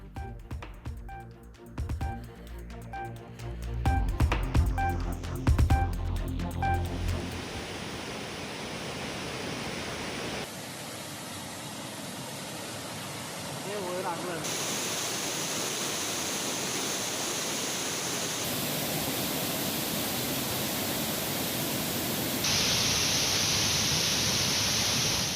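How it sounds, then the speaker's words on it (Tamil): Suruli waterfall at Kambam, flooded after heavy rain, roars with a steady broadband rush of white water, continuous and loud throughout. "கனமழை காரணமாக கம்பம் சுருளி அருவியில் கரை புரண்டு ஓடும் வெள்ளம்"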